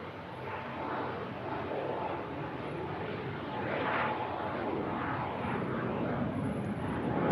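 A jet airliner takes off from runway 23L at Manchester Airport, a broad steady engine roar heard from a distance that swells slightly as it rotates and climbs, with no voices.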